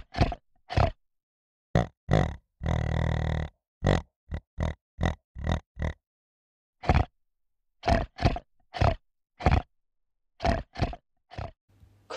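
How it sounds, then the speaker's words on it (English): A pig grunting in a series of short, sharp, close grunts in an irregular rhythm with silent gaps, plus one longer drawn-out squeal-like snort early on. "Pig."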